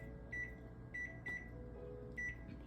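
Short electronic beeps from a kitchen timer being set for 45 minutes during soup cooking, four clear tones in an uneven rhythm over a steady low appliance hum, close by.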